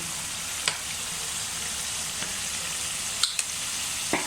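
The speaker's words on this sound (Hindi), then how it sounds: "अब इसको अच्छे तरीके से मिक्स करेंगे और भूनते रहेंगे" Vegetable biryani mix with vinegar, soy sauce and chili sauce frying in a pan, a steady even sizzle close up with a few isolated clicks of a stirring utensil, no talk.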